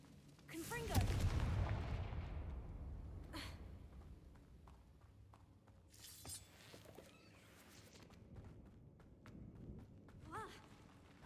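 In the video game Hogwarts Legacy, a Confringo fire spell erupts in a loud booming blast, followed by scattered thuds, crackles and smaller impacts that fade over several seconds.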